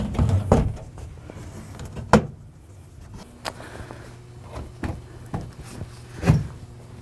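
An economizer access door on HVAC equipment is handled and refitted, giving several sharp metallic clunks and thumps spaced over a few seconds, with quieter rattles and scrapes between them.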